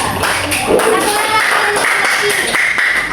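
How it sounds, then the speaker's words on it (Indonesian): Students in a classroom give a short burst of clapping, close and fairly loud, with voices talking through it. "Oke, tepuk tangan dulu untuk Bella."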